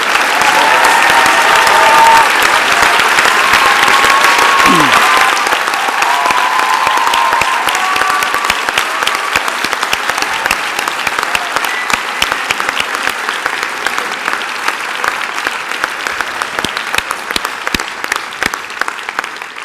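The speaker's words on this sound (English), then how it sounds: "The teachers here could please stand and accept the applause from the grateful community." A large graduation ceremony crowd gives teachers sustained, loud applause that fills the hall. The clapping is thick and continuous at first and slowly thins into sparser, more separate claps over about twenty seconds.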